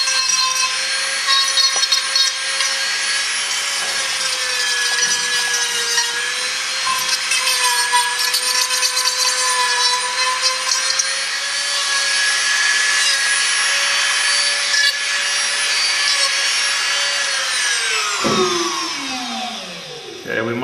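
A barrel sander grinding a rough piece of PVC plate, a loud close whine with a steady pitch throughout that winds down near the end.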